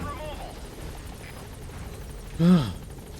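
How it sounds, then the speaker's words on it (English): A short, loud horse whinny with a falling pitch bursts out over a steady engine drone and faint background voices, in the video game Metal Gear Solid V: The Phantom Pain. "The horse tries to run away."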